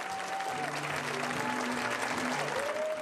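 Summer theater audience applauding in an outdoor amphitheater at a Kentucky playhouse, a dense continuous wash of clapping with a tonal music line faintly underneath.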